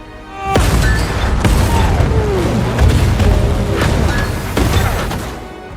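Cannon fire in a war film: repeated heavy booms and blasts, with whistling shells and rumbling mechanical noise, loud and dense throughout.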